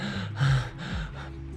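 A voice imitates breathless panting, as if winded after climbing two flights of stairs, with a couple of short, sharp gasping breaths close to the microphone.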